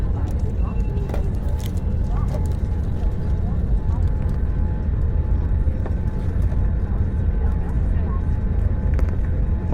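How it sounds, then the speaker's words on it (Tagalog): A Saudia airliner being pushed back from the gate, heard from inside as a constant deep engine rumble with faint crackles, while a person talks over it. "Umaatras na po ang aeroplano"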